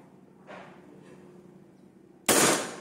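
A single sharp crack from a Bocap Predator PCP air rifle with a 500cc full-CNC build, loud and close, following quieter handling taps.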